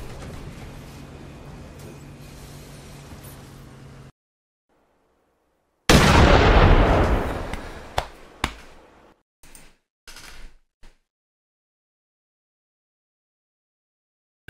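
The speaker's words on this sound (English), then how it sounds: "And suddenly there was still gunfire." A loud burst of gunfire after a short silence, followed by several sharper scattered shots that fade out into silence.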